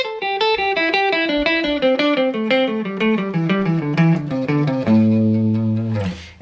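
Electric guitar picks a fast descending scale sequence with alternate picking, clean individual notes in an even stream, ending on a sustained held chord with a brief scrape.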